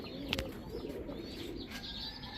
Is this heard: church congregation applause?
no